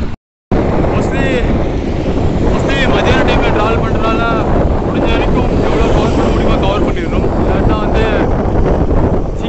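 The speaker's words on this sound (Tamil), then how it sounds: "செம விண்டு சைக்கிள் ஓட்டினாலே அப்படியே தள்ளுது நம்மளை அந்தளவுக்கு விண்டு" Strong wind roaring and buffeting close against the microphone while cycling on a long road ride, continuous and loud, with a voice talking over it.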